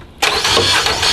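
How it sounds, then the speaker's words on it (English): Engine of a Crack Pro crack buggy starting on a tack truck: silence, then a sudden loud starter crank that catches into a rough running engine, close by. "Once you've got the engine fired up,"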